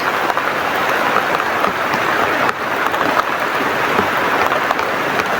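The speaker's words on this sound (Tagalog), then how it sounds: "So grabe yung ulan tol." Heavy rain pours down in a dense, continuous hiss, loud and close, with no pauses.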